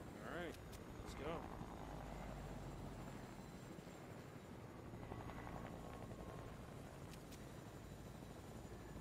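A helicopter flies in the video game Fortnite, its steady rotor drone running throughout with a few brief higher tones and some speech over the top.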